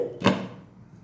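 A single dull clunk of a lid set down on a pot of simmering peanut curry, brief and close, followed by a short fading ring.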